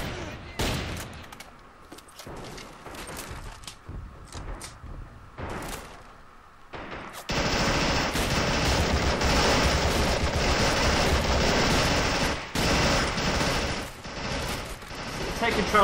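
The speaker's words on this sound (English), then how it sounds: "I've got a big machine gun" Sustained machine gun fire in the Men at War 2 Red Tide mod, a loud, dense battle din that starts after scattered earlier shots and rolls on with brief dips, mixed with other combat noise.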